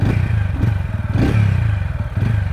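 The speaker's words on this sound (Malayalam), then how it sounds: "കുറച്ചുകൂടി ബാസായുള്ള സൗണ്ടാണ്." Close up, the exhaust of a TVS Ronin 225 Special Edition motorcycle with a 225 cc engine gives a bassy, pulsing thrum, swelling in a couple of short revs over a steady idle.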